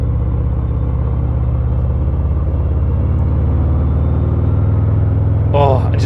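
Harley-Davidson Sport Glide 107 riding slowly down a narrow road between stone walls, its exhaust giving a steady low rumble, close and continuous, with a brief spoken moment near the end.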